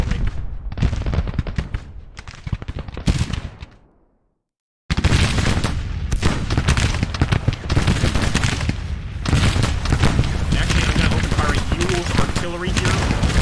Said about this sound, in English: Make sure that artillery is firing at the correct target, which is going to be Hampton Brigade.